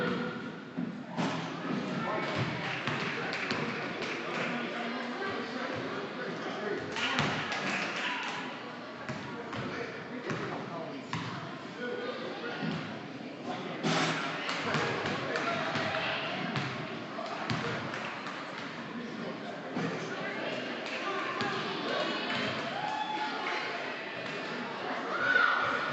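Several basketballs bounce repeatedly on an indoor court during a shooting contest, making irregular thumps that mix with people talking and crowd noise throughout.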